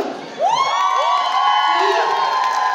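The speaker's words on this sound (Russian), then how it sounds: "Аплодисменты!" Crowd cheering and whooping at a K-pop cover dance festival in Moscow, rising suddenly and then holding loud and steady throughout, with excited high shouts layered over the roar.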